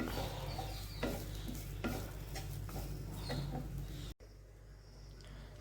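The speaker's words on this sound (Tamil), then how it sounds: "இதே சிம்லேயே வச்சு ஃப்ரை பண்ணி எடுத்துக்கலாம் அந்த ஈரப்பதம் போகிற அளவுக்கு" Ingredients for cotton seed milk powder are dry-fried in a pan over a low flame to drive off moisture. A spoon stirs and scrapes them in a close, steady rhythm with light sizzling, then the sound drops abruptly to quieter pan noise.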